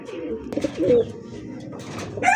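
A German Beauty pigeon coos up close, a couple of soft, throaty rolling calls in quick succession, with light background rustle.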